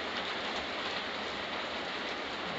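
Steady rain falls outside during a rainy spell, a dense, even hiss of drops on surfaces that holds constant and moderately close for the whole stretch, with no voices.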